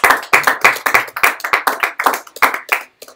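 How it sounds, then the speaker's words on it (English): An audience applauds at a live-streamed event, giving a round of sharp, close hand claps in an uneven rhythm that fades out near the end, with no talking. "Another round of applause, please."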